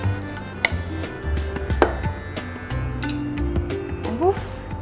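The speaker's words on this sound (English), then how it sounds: "Give it a quick stir." Curry leaf rice being stirred in a pan, a spoon scraping and tossing the rice with soft sizzling and a few clinks of metal, moderately close and steady, with a voice heard faintly at moments.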